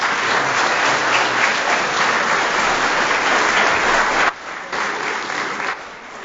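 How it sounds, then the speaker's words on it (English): Loud, dense applause from the audience at a city board of mayor and aldermen meeting, a sustained roar of clapping that drops off abruptly near the end and continues more softly. "Give another round of applause."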